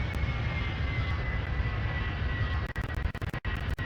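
An A321 airliner engine drones on approach in the Extreme Landings flight simulator, a loud, steady hum that stays constant for the first few seconds before briefly cutting out in short gaps.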